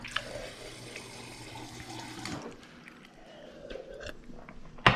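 Water runs from a kitchen tap for a drink in a home kitchen, a steady close hiss that stops abruptly about halfway, followed by quieter handling noises.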